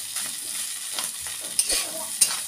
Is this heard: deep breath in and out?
no